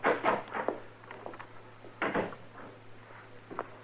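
A heavy jail door in the marshal's office of the Gunsmoke radio drama opens with a series of creaks and knocks, followed by a few lighter thuds and footstep-like sounds fading out.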